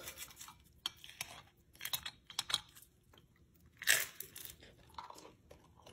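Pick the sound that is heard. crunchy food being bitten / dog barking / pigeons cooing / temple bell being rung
crunchy food being bitten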